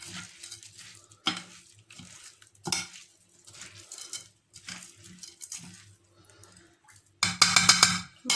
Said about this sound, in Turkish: Şöyle karıştıralım.